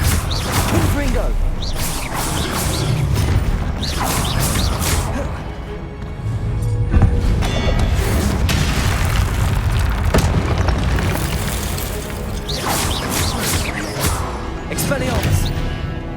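Confringo spell blasts in the video game Hogwarts Legacy, a run of loud booming explosions with whooshes and crashes over continuous game noise, with a voice speaking between them.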